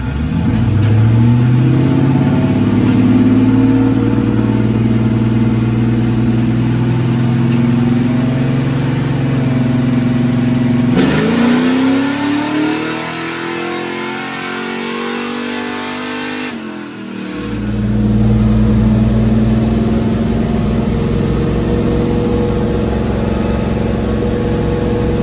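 A 1994 Chevrolet LT1 V8 with a cam-only build, throttle body, MAF and open exhaust cutout, revs hard on a dyno, a loud sustained climbing roar that drops away midway and then returns.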